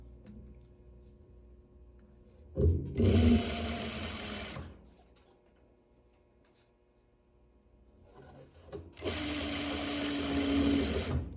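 A sewing machine stitches a tie top in two bursts of fast, even whirring, the second longer, with a quiet pause between and soft handling noise around them.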